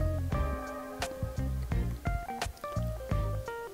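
Water flowing and dripping through a newly fitted shower mixer tap during shower cabin installation, with irregular drips, splashes and squishy liquid sounds close by, starting and stopping in short bursts.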